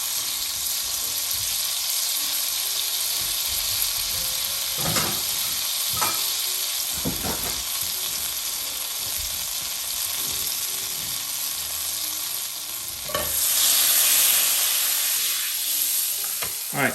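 Oil and butter sizzle steadily in a cast iron brazier, a close, continuous frying hiss broken by a few soft scrapes and clinks of stirring, with no talk.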